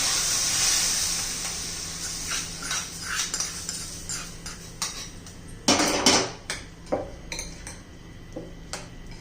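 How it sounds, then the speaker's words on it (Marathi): Hot oil with a pinch of asafoetida is poured over raw mango pickle in a bowl, bringing a steady sizzling hiss at first, then scattered clinks of a spoon or utensil against the container. "आता तेल ओतून घेऊया याच्यामध्ये"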